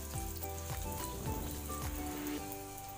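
A medium chopped onion fries in oil for pomfret curry, making a soft, continuous sizzle with a few faint stirring touches, fairly quiet and close.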